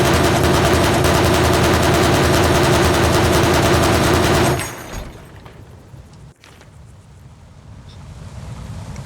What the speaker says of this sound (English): the gun on it isn't as good as the LAV, but this gun still smokes people very, very hard